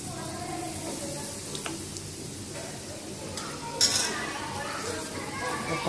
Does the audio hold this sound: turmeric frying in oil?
yes